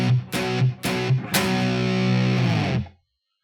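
Distorted electric guitar playing a chunky stoner rock riff, chopped with short rests between strums in the first half before a long sustained chord rings out and is cut off.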